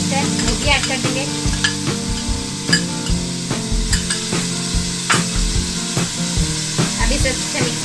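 Spices, ginger-garlic paste and beef pulao ingredients sizzle and fry in a pot while a utensil stirs and scrapes steadily, a loud continuous crackle broken by repeated knocks and clatters.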